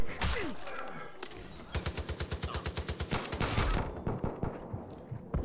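Rapid automatic gunfire in the Far Cry 5 shooter game: a dense run of evenly spaced shots, then scattered single cracks, fairly close and with no talking.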